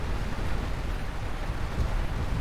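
Rain in the video game Lightyear Frontier, a steady soft hiss of falling water with a low rumble underneath, even and unbroken, with no voices.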